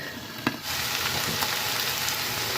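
Mushrooms, vegetables and chicken breast fry in a pan with a steady, dense sizzle that swells louder after a brief clatter at the start, crackling evenly and close with no talk.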